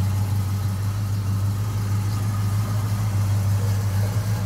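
A 1971 Oldsmobile Cutlass convertible with a 350 V8, mild cam, headers and electronic ignition idles close by, giving a steady low rumble with no speech over it.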